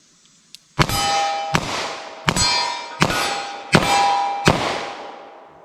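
Six 10mm shots fire in an even rhythm, each one a loud sharp report followed by a bright ringing clang off a steel target that decays slowly before the next shot.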